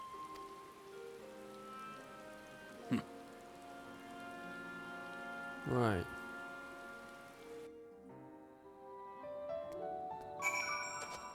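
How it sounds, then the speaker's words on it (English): Rain in the video game Final Fantasy XIV Shadowbringers, a soft steady patter running under game music with chimes and a brief spoken word, fading out near the end. "The rain has passed."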